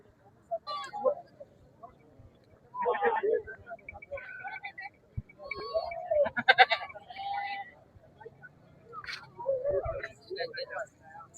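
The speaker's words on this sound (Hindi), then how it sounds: "ये चकवाल बकरा मंडी" Goats bleat repeatedly at the Chakwal goat market, several calls overlapping near and farther off, with people talking throughout.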